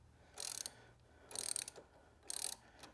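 A ratchet with an extension backs a bolt off a Honda CTX1300 motorcycle, giving three distinct bursts of fast, close clicking separated by short pauses, with no talking.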